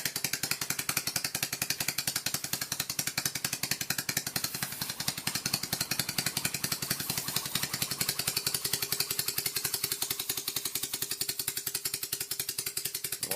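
A dismantled open scroll compressor runs somewhat dry, producing a fast, perfectly regular mechanical knocking throb with a faint underlying hum, steady and unchanging throughout.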